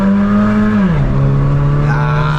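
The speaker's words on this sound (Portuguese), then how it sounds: "mostrando o Civicão roncando. Esse carro que tem um ronco muito da hora aí com o difusor aberto" A Honda Civic with an open exhaust diffuser growls close by as its engine revs, the tone dropping slightly mid-clip before holding a deep, loud drone.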